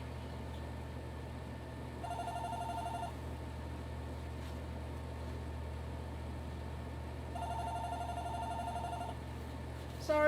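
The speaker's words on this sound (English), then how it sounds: "Sorry, my phone's ringing." A mobile phone rings indoors in a cluttered shed, with two bursts of an electronic ringtone separated by a pause, moderately loud over a steady low hum.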